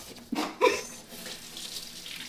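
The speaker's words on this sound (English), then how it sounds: "I was rinsing it out." A tap runs while a container is rinsed during a kitchen cooking challenge, producing a short splashing gush of water with a couple of sharper bursts, close and fairly loud, with no talking.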